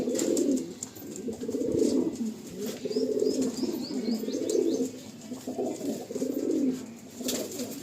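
Andhra pigeons, male birds, cooing close by in a repeated rhythmic series of low throaty coos, with a few faint chirps from other birds in the background.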